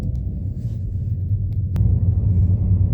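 Steady low road rumble of a car driving along a hilly road in Canada, continuous and fairly loud with no voices over it.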